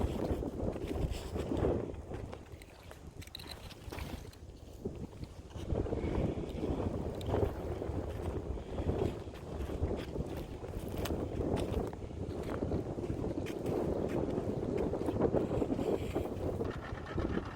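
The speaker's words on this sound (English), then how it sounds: "It's so windy today" Strong wind on a beach buffets and roars across the microphone in continuous gusts, loud and rushing, with no one talking.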